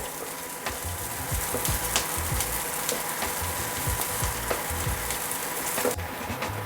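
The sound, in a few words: onion frying in oil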